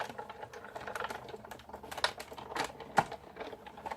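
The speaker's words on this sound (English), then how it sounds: "then just run it through your Big Shot." A Big Shot die-cutting machine is cranked with paper run through it, giving close, irregular clicking and ratcheting taps with a sharper knock near the end.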